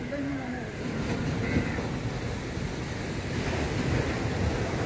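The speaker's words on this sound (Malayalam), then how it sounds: "സൈഡിൽ കടലിനെ കണ്ടില്ലേ" Sea waves wash and roar near the Azhimala Siva temple in Thiruvananthapuram, a steady surging rumble mixed with wind buffeting the microphone; faint voices may be present.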